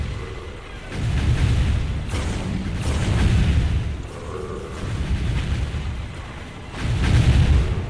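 Plasma cannon fire and explosions in the Dawn of War Ultimate Apocalypse strategy game, several heavy booming blasts rolling one after another with rumbling tails, loud and dense throughout.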